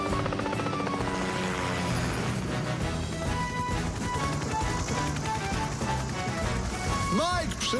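A cartoon helicopter's steady rotor roar fills the clip, loud and continuous, with music and voices layered over it.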